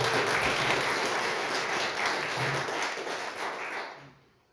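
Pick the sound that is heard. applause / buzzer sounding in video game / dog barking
applause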